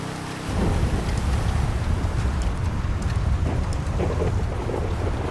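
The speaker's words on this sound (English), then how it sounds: "Thunder." Thunder rolls in the thunder weather setting of GTA 5 with the Redux graphics mod, kicking in suddenly as a loud, dense, rumbling wash with steady rain-like hiss, continuous and close, with no talk.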